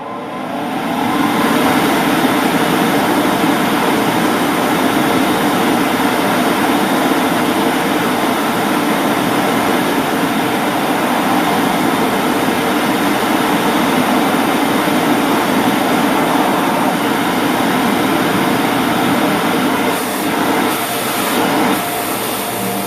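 A 1 hp, 750 W Spin Master industrial bounce house blower fan running, a loud, steady whooshing roar that holds constant from start to finish, with no voices.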